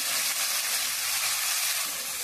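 Water goes into a pan of mustard masala frying in oil for a snakehead fish curry, and a loud, dense, continuous sizzle follows close up.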